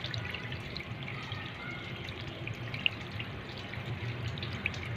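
Coolant water runs steadily out of a car radiator bleed nipple while the radiator is filled, a continuous close trickling and splashing wash with a couple of brief drips standing out and no one speaking.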